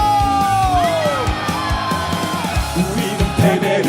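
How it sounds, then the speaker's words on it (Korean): A crowd of candlelight protesters cheers and does the wave at a rally, loud yells and whoops rolling across the crowd, with one voice shouting over the roar. "촛불 시민들의 승리의 함성과 파도타기"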